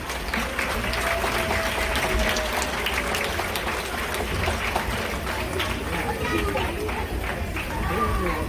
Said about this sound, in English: Big round of applause for all of our dancers